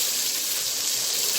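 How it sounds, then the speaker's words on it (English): Water being poured into a pot while cooking pav bhaji, a brief steady rushing splash with a bright hissing texture, close and continuous. "Sorry, we will add water also."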